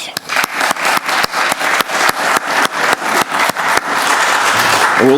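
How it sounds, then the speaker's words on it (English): A warm round of applause from an audience for Lyzette Wanzer and Kyra Gaunt at a talk on Black identity and hair, loud, close and sustained with sharp individual claps, continuing throughout. "So please, warm round of applause for Lyzette Wanzer and Kyra Gaunt"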